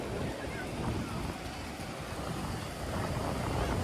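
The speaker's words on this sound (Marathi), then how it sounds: "लाट आली." Ocean surf washes onto a Konkan beach as a steady, close rush of water and wind noise, with no clear separate wave breaks and no talk.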